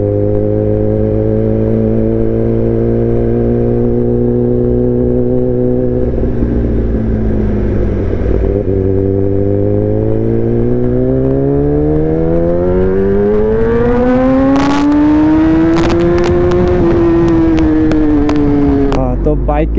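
A Kawasaki ZX10R, a 1000 cc sport bike, accelerating and riding at speed, its engine drone rising and falling in pitch through gear changes, loud and close with wind rush and a voice over it.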